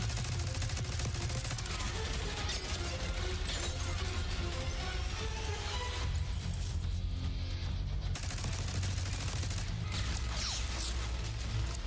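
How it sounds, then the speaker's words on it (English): Sustained, dense automatic gunfire from a spinning minigun wielded by a juggernaut in a video game trailer, loud and continuous with crashing, shattering impacts and mechanical whirring throughout. "Stay low until that minigun stops spinning"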